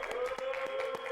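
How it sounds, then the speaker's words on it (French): An audience applauds and claps after a contestant is eliminated on a French show, with rapid, fairly steady clapping holding for the whole second, mixed with a sustained tone. "Applaudissez-la, s'il vous plaît, les gars."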